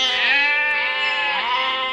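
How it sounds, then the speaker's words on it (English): A sheep bleats loudly and close by, one long wavering call that fills the moment with no other sounds around it. "Lions and bears often tried to snatch the sheep, but David was brave"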